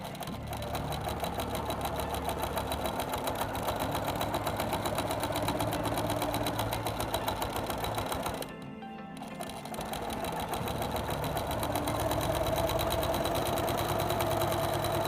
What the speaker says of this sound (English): And let's stitch around these curves.